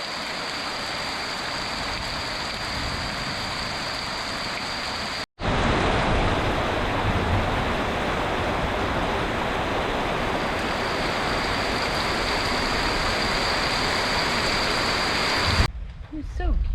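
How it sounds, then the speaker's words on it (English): Heavy tropical downpour in Montezuma at the start of the rainy season, a dense, steady roar of rain that briefly cuts out, then continues loud and unbroken. "we experienced a typical tropical downpour"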